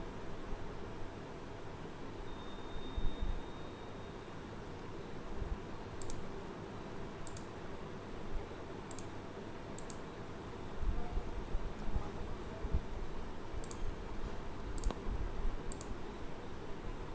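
Computer mouse clicks while working in ANSYS Fluent, a sparse scatter of sharp, faint clicks, some in quick pairs like double clicks, over a steady low background hiss.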